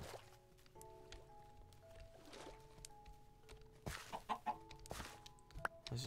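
Chickens cluck in Minecraft near an underwater sea temple, several faint, short clucks scattered over a quiet, steady game background with no speech.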